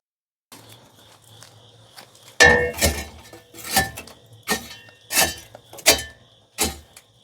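Metal grill grates are set back into a hotbox BBQ smoker, landing in a series of sharp, ringing clanks and rattles spaced about half a second apart, close and loud.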